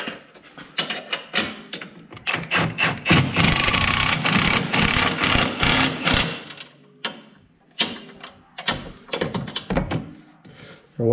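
A big impact wrench tightens upper A-arm bolts while a winch bumper is fitted to a Turbo S off-road vehicle, giving loud close bursts of hammering rattle, one long run in the middle, between clanks and pauses.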